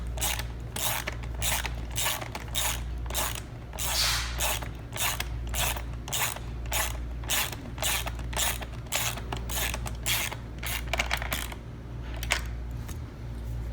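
A ratchet tightens a nylon locking nut down onto washers during a Legacy headliner installation, giving a steady run of sharp, close clicks in even strokes with brief pauses between bursts.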